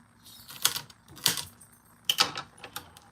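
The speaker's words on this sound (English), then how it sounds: "so I am just chopping." Celery and onions being chopped on a hard cutting board, a few quick clusters of sharp knife taps with brief gaps between them, close and fairly quiet.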